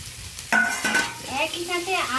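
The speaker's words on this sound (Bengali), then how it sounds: "কাঁকড়ার সাথে আলু বেগুনটা, ভেজে রাখা আলু বেগুনটা দিয়ে ভালো করে আরও দুবার নেড়ে নেব।" A crab is stirred with fried potato and eggplant in a pan: spatula scrapes and knocks over a hissing sizzle, with a squeaky scraping whine toward the end.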